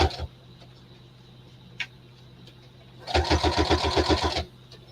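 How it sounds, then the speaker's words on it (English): A sewing machine top-stitches a quarter-inch seam over the strap of a fabric tote bag. After a quiet stretch, it runs in one close, steady burst of rapid, even stitching that lasts just over a second and then stops. "right now I'm stitching over the strap again"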